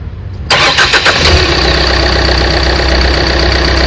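A car engine with an oil leak cranks briefly, catches with a loud burst, and settles into a steady, close idle.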